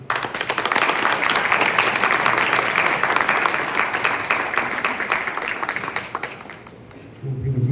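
Warm audience applause for the Spanish consul at a launch event celebrating Haitian women entrepreneurs, dense steady clapping from a sizeable crowd that fades toward the end, with a voice starting to speak as it dies down.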